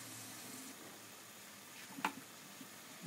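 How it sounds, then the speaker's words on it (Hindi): Frozen tomatoes fry in a pan for chutney, giving a faint, steady sizzle with a few soft pops and stirring sounds near the end. "इसको थोड़ा सा हमने फ्राई करना है"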